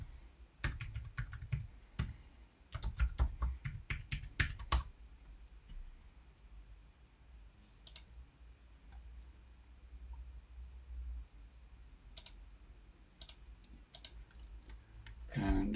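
Login username typed on a computer keyboard: quick clustered keystroke clicks in the first five seconds, then a few sparse, isolated taps, close and clear with no talk.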